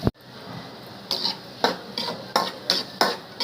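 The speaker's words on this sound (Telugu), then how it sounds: "ఆనియన్స్, పచ్చిమిర్చి వేసుకొని కొంచెంసేపు ఫ్రై చేసుకోవాలి." Chopped onions and green chillies dropped into hot oil for chicken curry, a sharp initial hit followed by steady frying and about six distinct scraping stirs against the pan, close and clear.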